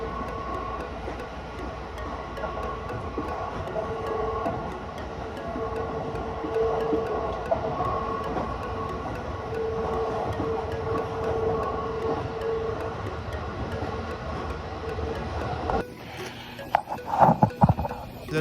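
A commuter train in Saitama, Japan, approaching Tokorozawa station, rumbles steadily along with a low, continuous drone and hum; near the end, louder clunks and rattles break in.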